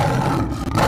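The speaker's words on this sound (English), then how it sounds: "L for lion" A lion roars in a single sustained, loud, rumbling burst lasting the whole moment, with a brief dip near the end before swelling again, and no voices.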